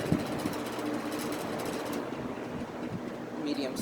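An Air King box fan runs on its high speed setting with a steady, broad whooshing roar of moving air close by, with some faint knocks over the constant wind noise.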